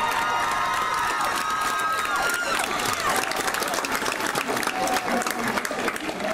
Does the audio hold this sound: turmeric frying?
no